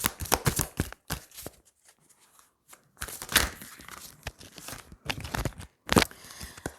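Tarot cards laid down and shuffled at close range, with bursts of crisp flicking and riffling broken by short quiet gaps.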